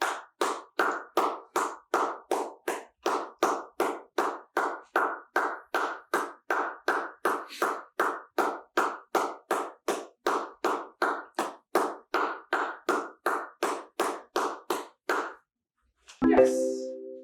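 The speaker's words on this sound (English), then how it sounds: "Sit for 20 seconds while you clap your hands." Steady run of about thirty sharp hand claps, evenly spaced and fairly close, during dog relaxation training, stopping near the end before a brief different sound.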